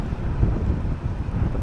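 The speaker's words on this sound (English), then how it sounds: "you can see it's a little windy out" Steady wind buffeting the microphone, a low, rumbling roar that gusts unevenly throughout with nothing else standing out.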